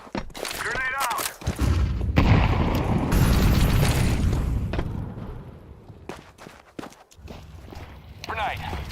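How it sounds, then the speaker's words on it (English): Grenade detonation in Counter-Strike 2 competitive play: a loud low boom that rolls on for a few seconds amid footsteps and thuds, with a voice talking around it. "Grenade out!"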